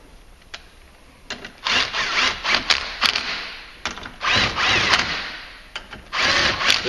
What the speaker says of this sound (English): If you're using an air impact or electric impact like this, you don't want to super crank on these because they are just going into aluminum